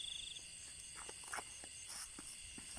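Frogs call at night in cold Lao countryside, a steady chorus of pulsing croaks mixed with high, continuous insect trilling, moderately close and fairly quiet.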